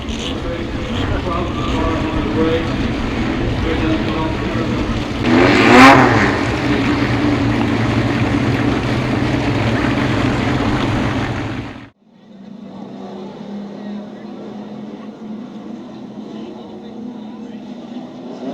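Race cars at Desoto Speedway roar continuously from the track, with one car swelling loudly as it passes near before the sound cuts to a quieter, distant engine drone.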